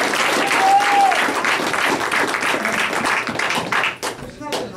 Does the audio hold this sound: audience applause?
yes